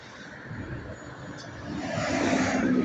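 Cars passing on a road near the flooded Hawkesbury River, a steady broadband roar that grows gradually louder toward the end with no voices.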